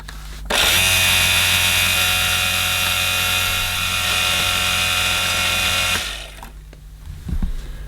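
A Casdon Dyson DC01 De Stijl toy vacuum cleaner runs with a steady, loud motor whine and a high hum for about five seconds, then switches off and leaves faint handling noise.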